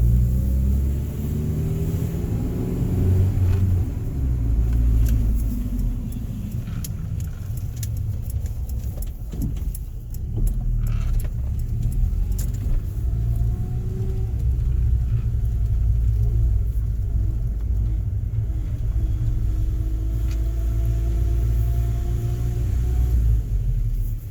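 A Honda D16Y8 engine fitted with a new DNA Motoring header idles steadily with a loud, deep rumble that holds even for about 24 seconds, with faint rattles and brief rev changes.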